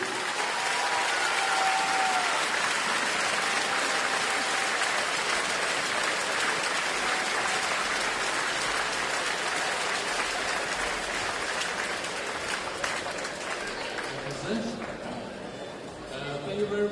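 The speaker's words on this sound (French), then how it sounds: "Tous vos applaudissements pour Monsieur Casper Kissou." A theatre audience at a career celebration ceremony applauds loudly and steadily, dense clapping holding close and strong for the whole stretch before easing slightly near the end.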